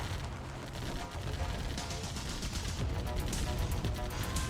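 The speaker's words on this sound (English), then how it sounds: "he is taking more fire from Rashnagar's turret" Turret gunfire in a naval battle video game, a continuous rumbling barrage of overlapping shots and booms with sharper cracks toward the end, steady and fairly dense.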